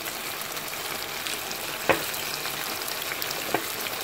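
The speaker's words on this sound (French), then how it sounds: "Et je vais faire revenir." Shrimp and crunchy vegetables with soy sauce sautéing in a wok, a soft, even sizzle broken by two faint clicks of a utensil, with no voices.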